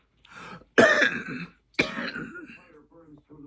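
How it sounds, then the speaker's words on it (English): Two harsh, forceful coughs close to the microphone, with quieter throat sounds before and a short voiced murmur after. "My cough is still bad."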